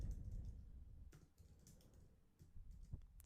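Keys on a computer keyboard are tapped while a command is typed at a command line: a few soft, scattered clicks against a low background hum, faint and close.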